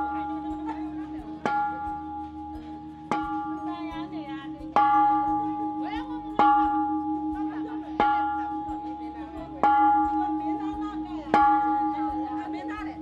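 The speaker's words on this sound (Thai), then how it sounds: "ตีระฆังเพื่อขอพรในวันนี้จะได้สมหวังนะครับ" A temple bell in Tachileik, Myanmar, is struck about eight times at even intervals. Each clang rings out close and loud, then decays into a long humming tail before the next strike.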